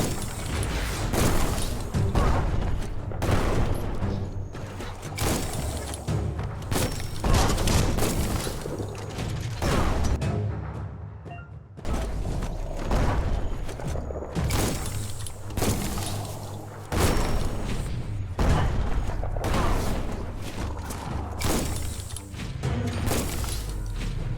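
Enemy bomb lobbers in the video game Biomutant set off repeated explosions, a run of loud booms and crashing impacts spread through a dense, continuous stretch of game combat noise.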